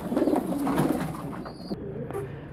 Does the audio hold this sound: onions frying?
no